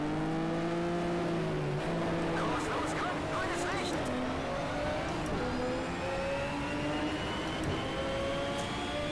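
A 1300+ PS Nissan GT-R race car in Need for Speed Shift 2: Unleashed revs hard, its engine note climbing in pitch through the gears, loud and continuous, while someone talks over it.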